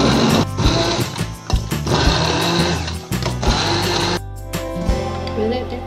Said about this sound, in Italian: Poi aggiungiamo il pane e continuiamo a frullare.